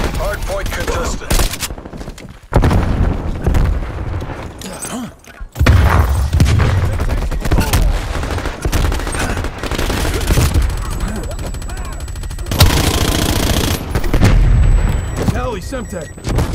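Rapid gunfire and explosive booms crash through a Call of Duty: Black Ops Cold War multiplayer match, with loud bursts of automatic fire, sniper shots and brief pauses, while game announcer voice lines play over the action.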